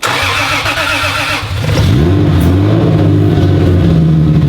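A turbocharged Lexus IS300 engine cranks briefly, then catches and settles into a loud, close idle with a couple of rising revs, running steadily to the end.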